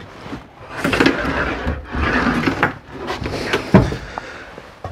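A pocket door in a 2012 Voltage V3200 RV slides along its track in a few short wooden rumbles and knocks, close by and moderately loud, with no voices.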